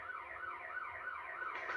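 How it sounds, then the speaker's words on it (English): Police car siren from a Denver officer's cruiser, a steady wailing tone sweeping up and down, loud and close with constant road noise beneath, no voices. "The officer hits his siren and his lights on us."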